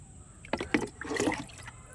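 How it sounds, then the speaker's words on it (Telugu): Water poured onto a freshly planted brinjal seedling in a grow bag splashes and gurgles in a short, uneven burst lasting about a second. "ఇప్పుడు వాటరింగ్ చేద్దామండి మొక్క వేసిన వెంటనే వాటర్ చేయపోయాలండి"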